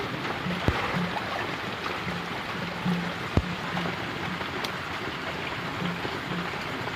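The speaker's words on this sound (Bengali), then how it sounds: "তো আমাদের ওখানে দেখো বৃষ্টি হচ্ছে" Rain falls steadily outdoors, a soft, even hiss of drops with a few sharper taps, heard alone with no talking.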